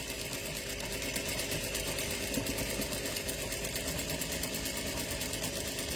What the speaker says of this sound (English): I'm going to put them on my 1/4 inch seam allowance line on my machine and start feeding them through.